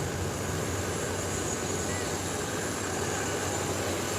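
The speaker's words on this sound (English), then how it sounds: "Very good takeoff, smooth" An aircraft climbs away after takeoff, heard as a steady, loud broadband roar that holds constant throughout with no talking over it.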